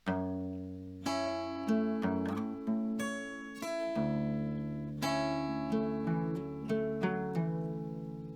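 A clean guitar picks a quick melodic lick, notes ringing into one another with smooth hammer-on and pull-off slurs between plucks, solo and close.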